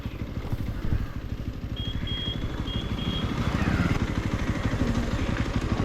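A motorcycle engine runs continuously and close by, with a steady, slightly rough rumble. The bike is on a street outside the Jagannath temple in Khidirpur, Kolkata, just before parking. No one speaks.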